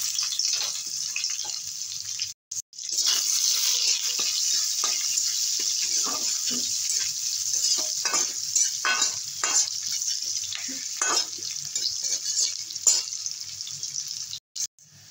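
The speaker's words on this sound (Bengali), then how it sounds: "ফোড়নে দেবো তেজপাতা, জিরে, লং আর দারচিনি, দুটো শুকনো লঙ্কা, পেঁয়াজ কুচি অর্ধেক" Bay leaf, cumin, cloves, cinnamon, two dried chillies and chopped onion crackle in hot oil, a loud, bright, continuous sizzle with intermittent stirring clicks and one brief drop-out.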